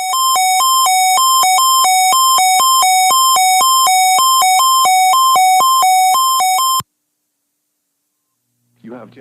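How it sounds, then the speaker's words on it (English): A National Weather Service radio warning alarm test: a loud, steady two-tone electronic tone alternates rapidly for about seven seconds, then cuts off abruptly; a brief voice follows after a pause. "You have just heard a test of the National Weather Service radio warning alarm feature."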